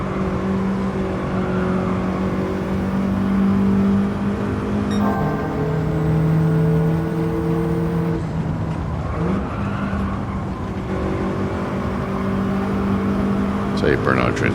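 In a racing video game on a PS5, a car engine drones and revs, rising and falling in pitch through gear changes with a brief skid, while someone talks over it almost continuously.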